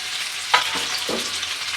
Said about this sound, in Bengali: আমি এটা একদম লো আছে ভেজে নেব